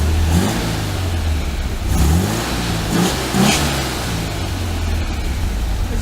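A 1973 VW Super Beetle engine with a Dellorto FRD 34B carburetor and balance tube runs on all four cylinders, a loud, close, steady idle with a few brief revs rising and settling.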